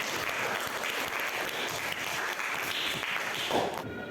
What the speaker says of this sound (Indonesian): Ya, tepukan semuanya.